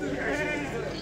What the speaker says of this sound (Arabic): خروف تبارك الله زين.